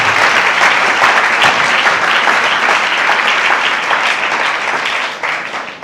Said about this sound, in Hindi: जोरदार तालियां कि कलाम अच्छे लगता है।